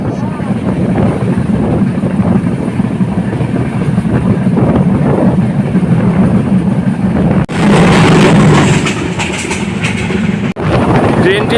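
The Panchagarh Express rushes along at high speed, filling the scene with a loud, continuous rumble and rattle of rail cars that swells into a harsher, brighter roar partway through.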